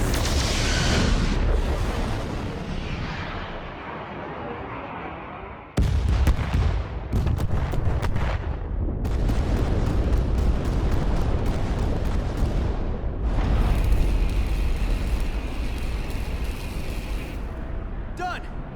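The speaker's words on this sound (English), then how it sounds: "Prepare all torpedo banks." Starship torpedoes fire in the Star Trek Resurgence game, heavy booming blasts and rumbling explosions with sharp cuts between bursts, loud and dense, with a crackling sweep near the end.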